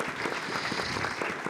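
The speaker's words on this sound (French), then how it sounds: "On peut applaudir avant tous ces participants à cette table ronde qui était riche." Continuous, dense audience applause for round-table participants at an e-health university event, a full steady wash of many hands clapping throughout.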